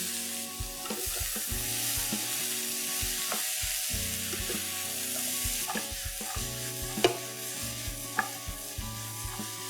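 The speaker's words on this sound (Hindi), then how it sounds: "दो मिनट के बाद इसमें हम डालेंगे आधा कप मटर और एक छोटी लौकी" Peas and bottle gourd cubes fry in a pan with a loud, steady sizzle under repeated clattering stirs and scrapes close by; no one talks.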